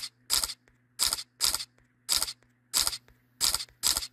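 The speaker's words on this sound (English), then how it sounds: "I'm gonna take a bunch of photos in quick succession." Samsung smartphone camera shutter fired in quick succession: seven crisp, close clicks at slightly uneven intervals over a faint steady hum, with no talking.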